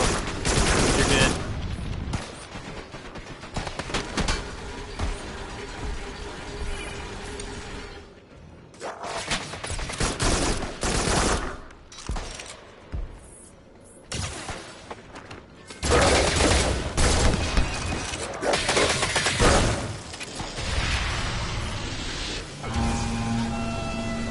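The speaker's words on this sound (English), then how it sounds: "I got his fire. He's firing at me" Dense gunfire from the co-op VR shooter game Farpoint, repeated loud bursts and volleys with brief lulls, close and continuous over the whole stretch.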